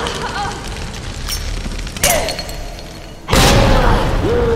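Grenade launcher blasts in Resident Evil 2 Remake, two loud booming explosions about a second apart over busy game noise with a few whistling tones.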